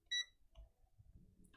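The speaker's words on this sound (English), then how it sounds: "I can tell you it's beeping" A multimeter gives one short, high continuity beep while a capacitor on a circuit board is tested, followed by faint handling noises.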